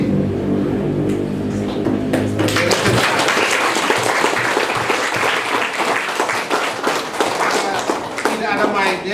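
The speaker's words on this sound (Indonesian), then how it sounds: "jadi harus tepuk tangan" Crowd applause at the formal opening of a vocational school multimedia and networking skills competition, dense steady clapping filling the room and continuing throughout after a brief spoken moment at the start.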